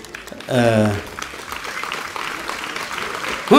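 An audience at a comedy show during the Yadur village fair claps steadily for a few seconds right after a short vocal sound, then the clapping fades as a voice returns.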